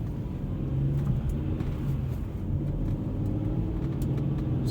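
A big station wagon engine accelerates smoothly in traffic, a steady low rumble and whir heard from inside the car without stuttering or misfires, with no speech.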